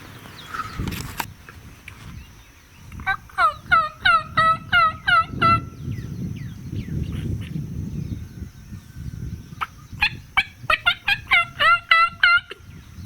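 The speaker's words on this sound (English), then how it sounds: "Turkeys right over the hill." Wild turkeys gobble in repeated bursts at moderate distance beyond a hill in Hawaii, rapid rattling calls coming in two clusters over quiet outdoor background.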